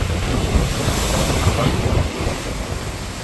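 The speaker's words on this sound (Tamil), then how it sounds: "ஓகே இதான் இப்போத்திய நிலவரம் யாழ்ப்பாணத்தில் இப்போத்திய நிலவரம் நல்ல புயல் ஒன்று அடிச்சு கொண்டிருக்குது" A storm lashes the coast at Jaffna, with roaring gusts battering the microphone over rough, crashing sea waves in a loud, constant wash, and no clear speech.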